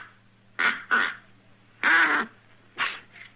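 A man blows a duck call to imitate a duck quacking in a Western drama: four short, nasal quacking blasts in a loose, uneven rhythm, close and fairly loud against a low hum.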